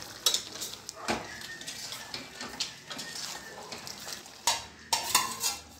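Peanut powder, chili powder and chopped coriander being stirred into a vegetable palya in a pan, with soft scraping and clinks of a spoon against the vessel in scattered bursts, close and fairly quiet, no talking.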